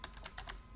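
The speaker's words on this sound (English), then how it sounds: "we're gonna put our execute file in here by typing exact" A short burst of typing on a computer keyboard: about five quick, crisp keystrokes, faint and close, with no talking.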